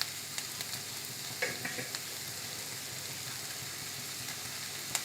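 Instant dosa batter being stirred and mixed in a bowl, soft continuous wet swishing with scattered light taps and scrapes of the utensil, fairly quiet and close.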